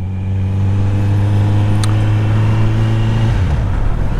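Kawasaki Z900 motorcycle fitted with a small aftermarket Akrapovič exhaust, its engine holding a loud steady rev for about three seconds before dropping off, close by.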